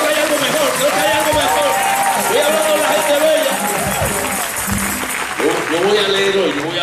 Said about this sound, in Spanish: Si usted lo cree, dale mejor aplauso que le haya.